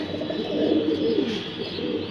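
Pet pigeons resting on a balcony give a steady, low rolling coo, continuous and fairly close, with no talking.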